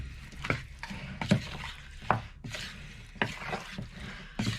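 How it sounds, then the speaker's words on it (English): Wooden spoon stirring chicken wings through a coating in a bowl for hot wings, giving soft scraping, thudding strokes in an irregular rhythm, close and moderately quiet, with no talking. "So I'll actually mix them in with a wooden spoon."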